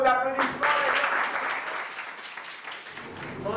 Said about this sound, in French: F2, sous vos applaudissements.